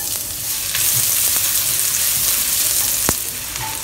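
Thinly julienned carrots fry in oil in a pan, making a steady bright sizzle with a few small clinks and a soft stirring tap, close and without voices.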